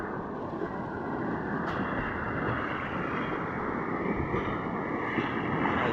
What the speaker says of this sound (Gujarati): ઓલો મોટો મોજો આવે છે એ આપણે જોઈ.